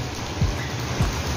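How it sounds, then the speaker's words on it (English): Dense, steady hiss of heavy rain pouring down at a lakeside park in Singapore, with a couple of soft low thuds beneath the downpour. "It's raining heavily."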